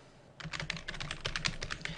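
Typing on a computer keyboard to enter a file name, a close run of quick, uneven key clicks that starts after a short quiet moment and continues steadily, with no talk.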